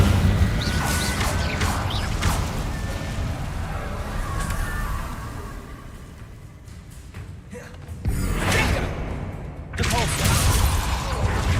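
Reducto and other attack spells cast in Hogwarts Legacy combat, loud blasts, whooshes and crashing impacts in bursts, dipping into a quieter lull before a fresh cluster of explosive hits.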